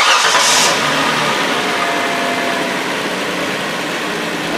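Hyundai Sonata engine cranking and catching, then settling into a steady close idle hum that continues alone.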